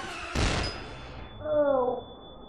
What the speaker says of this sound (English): I can try this flashbang on him.